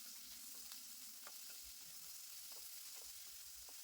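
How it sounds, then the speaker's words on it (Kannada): Onions with curry leaves frying in oil in a cooker for broken wheat upma, a faint, even sizzle with a few soft utensil taps, quiet and continuous. "ಎಣ್ಣೆಯಲ್ಲಿ ಈರುಳ್ಳಿನ ಸ್ವಲ್ಪ ಫ್ರೈ ಮಾಡ್ಕೊಳ್ಳೋಣ"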